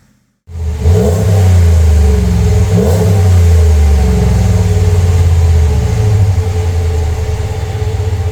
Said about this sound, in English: The standard exhaust note really doesn't do this monster truck any favours.